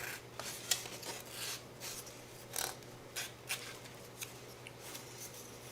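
Abrasive rubbing strokes come from sanding miniature dungeon terrain pieces, a series of quiet, close, irregular scratchy swipes with short pauses between them.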